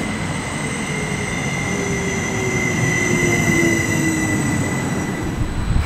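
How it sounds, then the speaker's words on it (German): An S-Bahn train pulls into Wuppertal-Steinbeck station with a steady, close rolling roar and faint high wheel squeal throughout. No one speaks. "Der hier gleich mit der S-Bahn ankommt."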